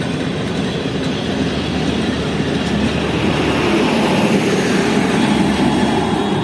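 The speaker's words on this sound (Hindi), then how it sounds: "तो ट्रेन का रेक काफ़ी लंबा था" A long passenger train in Pakistan, hauled by a GU40 diesel locomotive and carrying a dining car, AC standard and business-class coaches, rolls past close by with a loud, steady rumble and rattle throughout, no voices.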